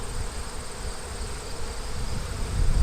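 Russian honey bees at an open hive make a dense, steady buzzing drone close by. It runs unbroken and grows slightly louder toward the end.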